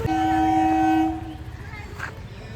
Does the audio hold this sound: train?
yes